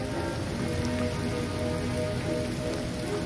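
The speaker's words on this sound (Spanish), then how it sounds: "Desde ya hace unos días ha estado lloviendo intensamente" Heavy rain falling steadily on outdoor surfaces, a dense, constant hiss of drops with no pauses and no voices.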